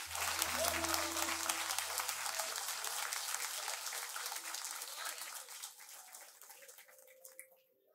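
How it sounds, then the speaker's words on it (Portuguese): A church congregation applauds loudly in a dense, sustained wash of clapping that gradually thins and fades out over the last seconds, with a low sustained musical tone underneath early on. "Se é para aplaudir, pode aplaudir, irmão."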